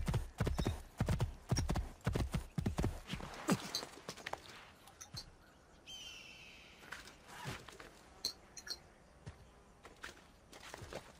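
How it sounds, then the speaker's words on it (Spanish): Galloping hooves of a horse ridden through a Renaissance Italian town in Assassin's Creed 2, fast rhythmic clip-clops that are loud at first and then ease off, with a brief whinny and a little speech early on. "Mi deseo se ha hecho realidad. Un caballo."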